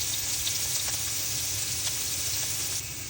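Green chili, garlic and onion sizzle in hot oil after mustard seeds have popped, a steady close crackling hiss with scattered sharper pops and no talk, easing slightly near the end.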